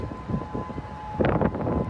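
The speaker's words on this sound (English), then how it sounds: "Sirens could be heard in Honolulu after the earthquake." Tsunami warning sirens sound in Honolulu after an earthquake, a steady wailing tone heard at a distance under wind and low rumbling background noise, swelling louder near the end.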